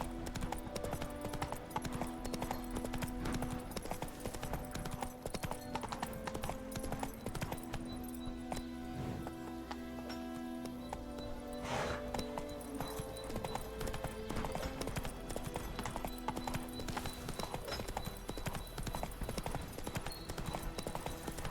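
Hooves of Roach, a horse in The Witcher 3: Wild Hunt, clip-clopping in a steady, continuous trot for the whole stretch, close and even, with a brief whinny and faint game speech mixed in.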